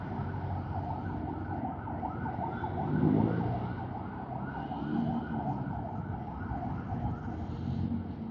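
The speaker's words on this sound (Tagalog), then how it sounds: "Palagpasin natin tong ambulansya." An ambulance siren wails in a repeating rising-and-falling pattern as it passes on the road, moderately close and steady under light traffic rumble.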